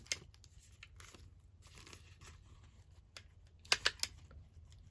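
Fine paper doily being folded and crinkled, with faint close rustles and a brief cluster of sharper crinkling snaps near the end, soft and quiet overall.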